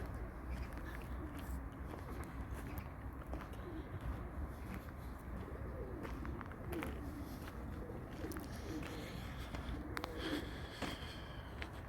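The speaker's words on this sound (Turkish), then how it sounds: "Kuş bu" Soft cooing of a pigeon or dove over constant outdoor background noise, with faint rustling throughout.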